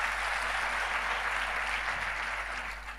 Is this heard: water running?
no